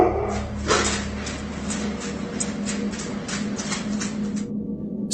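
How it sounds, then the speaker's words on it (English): A dog whimpers indoors in a string of thin, repeated whines at a steady pace, fairly close, over a low background hum. "dog begins to whimper before an object falls on its own"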